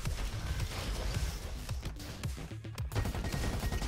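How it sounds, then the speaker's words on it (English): Mortar fire in the video game Roboquest, a dense barrage of explosive booms and crackling gunfire layered over game noise, loud and continuous with a brief lull midway. "What is that? Oh, it's a mortar."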